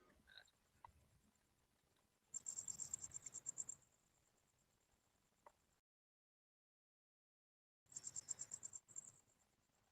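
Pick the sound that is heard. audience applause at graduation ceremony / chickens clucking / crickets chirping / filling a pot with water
crickets chirping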